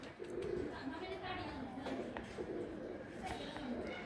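Chand Kopalla pigeons in a crowded loft, soft repeated cooing close by under a voice talking, low and faint.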